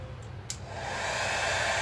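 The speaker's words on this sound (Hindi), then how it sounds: "हेयर ड्रायर जो है अच्छे से काम" A repaired hair dryer switched on after a click, its fan and motor rising into a steady, loud whooshing hum that holds to the end.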